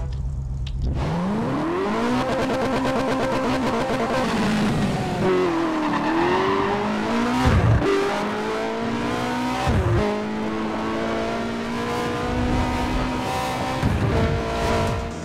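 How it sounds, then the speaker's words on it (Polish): A BMW M1 Procar in the racing game Need for Speed World revs loudly through repeated gear changes, its engine note climbing and dropping in steady waves with bursts of tire squeal, alone and close. "samochód ma świetny dźwięk silnika, który jest wręcz unikalny"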